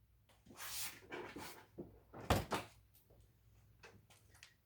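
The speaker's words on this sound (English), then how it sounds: "So to do that, first, we have to open the saddlebag door." A saddlebag door on a 2023 Honda Goldwing Tour motorcycle is worked open, with close rustling and scraping, a sharp latch clack near the middle and a few lighter knocks afterward, with no talking.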